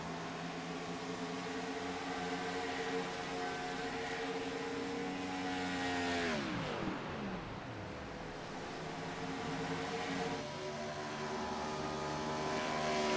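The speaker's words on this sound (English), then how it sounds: "You hear that car coasting through the corners." An IROC race car at Kansas lifting and coasting through corners in fuel save mode, a steady engine drone that sweeps down in pitch midway and then settles, heard from on board at constant volume.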